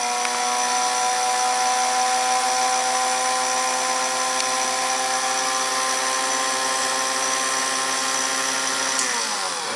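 A sensitive drill press running steadily with a tiny number 71 drill bit fitted, giving a continuous high, whining motor hum with layered tonal harmonics, close and constant, winding down slightly in pitch right at the end.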